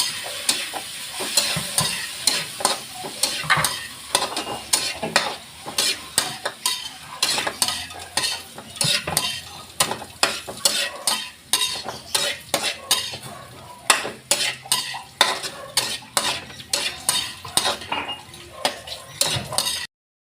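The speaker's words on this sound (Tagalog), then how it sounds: "Add shrimp and cook until thin." Shrimp sautéing in a pan while being stirred for ginataang pakbet, with a constant sizzle under frequent rhythmic scrapes and clinks of a utensil against the pan.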